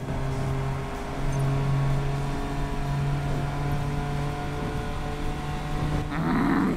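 Aston Martin DB5 engine in NFS Payback, a steady low drone with a sustained engine note echoing through a tunnel, swelling briefly near the end as the revs rise.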